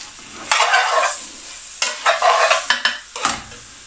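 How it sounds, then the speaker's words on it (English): Sliced tomato drops into a pan of sizzling chicken balti, giving three or four loud bursts of frying hiss and stirring clatter with short quieter gaps between them. "And also, I'm going to add tomato, sliced tomato."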